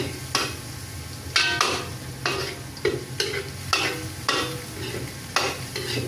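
Garlic browns in a frying pan for beef salpicao, giving a steady close sizzle broken by about six evenly spaced scraping stirs of a utensil against the pan, with no voices.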